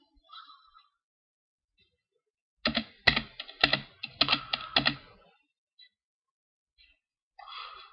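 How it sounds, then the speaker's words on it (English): A password is typed on a computer keyboard during a Terminal software install, the keystrokes arriving as a quick cluster of sharp, close clicks in the middle, with a brief softer sound at each end and near silence between. "So you type in your password."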